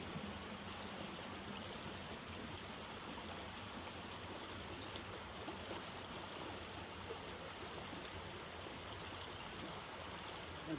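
Steady stream water runs continuously alongside a hiking trail while a new water filter is used, a constant broadband rush and trickle that stays even throughout with no voices.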